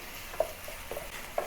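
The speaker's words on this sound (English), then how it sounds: "Fry it for a little while so that the oil from the fat will then render out." Garlic fries in rendered pork fat with a soft, steady sizzle, punctuated by a few light stirring clinks from a utensil against the pan, quiet and close.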